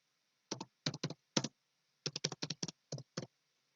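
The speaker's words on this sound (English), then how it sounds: "So as you type," Keys clicking on a computer keyboard, short close bursts of quick strokes with pauses between, alone in a quiet room.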